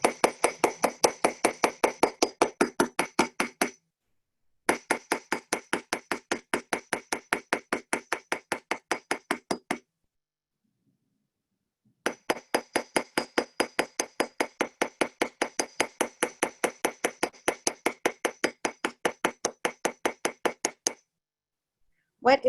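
A hammer stamps and textures a raw brass or copper cuff bracelet: rapid, evenly spaced metallic taps in three long runs separated by short pauses, close and crisp.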